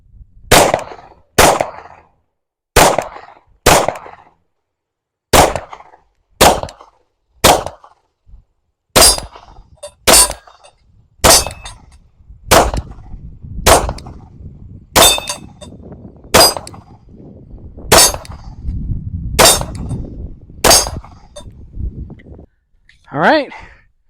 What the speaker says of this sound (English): we're just going to be testing the pistol to see how it eats this various types of ammo